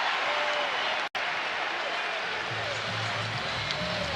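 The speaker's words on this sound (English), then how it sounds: "And again, the crowd loves it." Hockey arena crowd at a Vegas Golden Knights–San Jose Sharks NHL game roars and applauds, a broad continuous wash of cheering with scattered claps under a commentator's voice.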